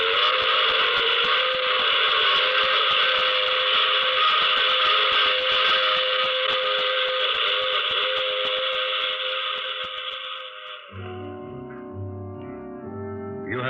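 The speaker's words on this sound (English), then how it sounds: "I take this same train every week at this same time" A passing train in a radio drama sound effect: a loud, sustained whistle-like drone holds for about ten seconds, then cuts to lower rumbling tones near the end, with no voices.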